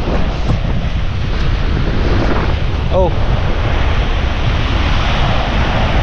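Strong storm wind buffets the microphone on a typhoon-battered coast, roaring steadily over crashing surf from a boat out at sea. A brief exclamation cuts through the constant, heavy rumble.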